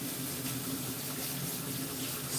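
Tap water runs steadily into a sink while a knife is rinsed under it, a constant close hiss and splash with no talking.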